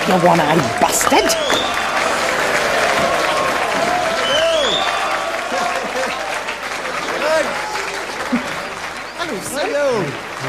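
A crowd clapping and cheering at a live performance, loud and continuous, with voices shouting over the applause throughout.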